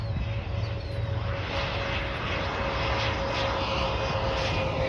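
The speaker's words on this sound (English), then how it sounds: "That is a Mitsubishi CRJ-200LR Contour Aviation from I don't know where." Steady, loud jet engine roar from a Mitsubishi CRJ-200LR regional jet operated by Contour Aviation at Chicago O'Hare, a constant drone with a clear tonal whine and no voices.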